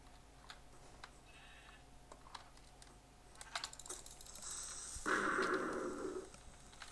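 Sheep bleating in Minecraft, a short bleat around mid-clip amid keyboard typing and clicks, followed by a louder, longer bleat near the end.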